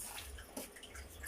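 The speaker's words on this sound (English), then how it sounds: "I want to wash the rice." Tap water running and splashing as rice is washed for Nigerian jollof rice in a home kitchen, a steady close wash of water with small drips and sloshes, no talking.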